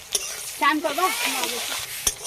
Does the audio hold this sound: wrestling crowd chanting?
no